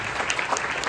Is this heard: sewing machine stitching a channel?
no